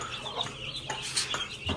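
Short chirps and clucks from chicks and chickens come in bursts over low background noise, close by.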